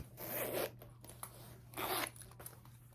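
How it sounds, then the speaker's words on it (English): A zipper on a brown Fossil crossbody handbag with an expanding section is pulled in two quick, close rasping strokes, separated by a pause with small handling clicks. "It's actually got this zipper thing."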